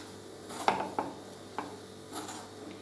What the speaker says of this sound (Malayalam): നല്ലോണം ഒന്ന് മിക്സ് ചെയ്തെടുക്കാം നമുക്ക്.